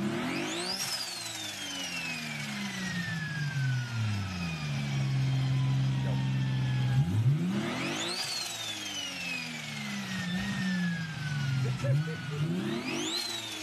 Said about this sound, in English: Is that a good sounding car?